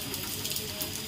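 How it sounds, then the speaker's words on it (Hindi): Steady rain falls outdoors while a parrot bathes in it, a continuous soft hiss of drops with no voices over it. "मस्त एक नंबर की बारिश हो रही है"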